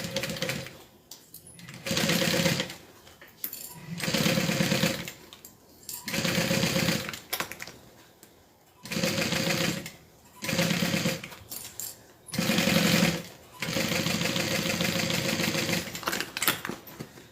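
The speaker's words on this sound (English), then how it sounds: "All right, let's sew." A sewing machine stitches fabric for a custom bag order in bursts of steady, rapid whirring runs of one to two seconds each, broken by short pauses, with a longer continuous run at the end, close and fairly loud with no voices.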